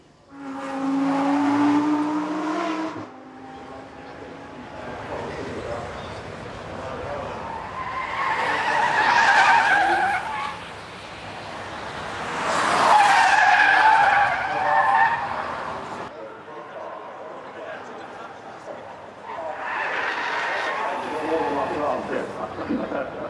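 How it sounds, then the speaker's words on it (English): A Rolls-Royce Cullinan driven hard at the Goodwood Festival of Speed, tires squealing and skidding in repeated loud surges, each swelling and then easing as the large car powers past. "after seeing this Rolls-Royce Cullinan being absolutely sent at the Goodwood Festival of Speed"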